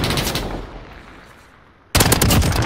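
Rapid bursts of video game gunfire, loud and close, start the clip, then fade into a quieter stretch before another dense volley of automatic shots breaks out.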